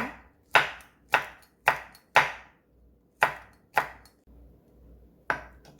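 A kitchen knife chops a stalk of green onion and chili peppers, including Cheongyang chilies, on a cutting board: about eight sharp, loud knocks in an uneven rhythm, close up and alone, with brief pauses between cuts.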